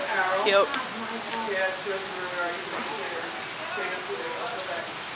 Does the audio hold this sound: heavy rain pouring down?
yes